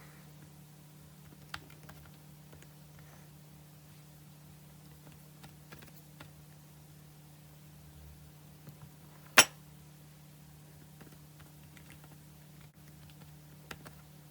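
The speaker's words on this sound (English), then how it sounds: "go ahead and type your email address and password" An email address and password are typed on a computer keyboard: quiet, irregular key taps continue throughout over a low steady hum, with one louder clack near the middle.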